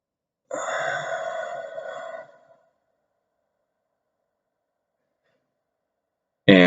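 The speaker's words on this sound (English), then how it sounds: "5 seconds breathing in, holding our breath for 5 seconds, 5 seconds breathing out" One slow, deep breath, a long airy exhale of about two seconds, close and fairly soft, followed by silence and a brief sound at the very end.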